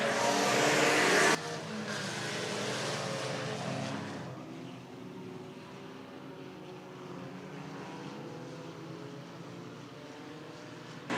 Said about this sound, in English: That green flag dropped, and both Bolte and Katie DeVries just drove